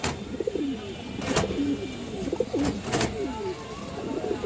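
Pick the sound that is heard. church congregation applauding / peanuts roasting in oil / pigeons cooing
pigeons cooing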